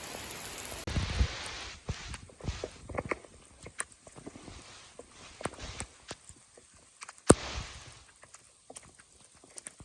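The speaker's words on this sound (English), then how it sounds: "This is some pretty intense rain" Heavy rain pours down during an outdoor walk more than a mile from home, a dense wash of drops with scattered sharp splashes and hits on surfaces, fairly close and continuous throughout.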